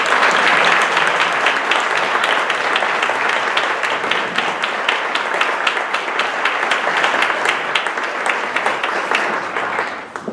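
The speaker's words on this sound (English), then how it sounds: "So could all of you who have been CPD student associates please stand up so that we can give you a thanks and a round of applause." An audience gives a sustained round of applause at a tenth-anniversary celebration event, dense steady clapping from many hands lasting the whole stretch, with no talk over it.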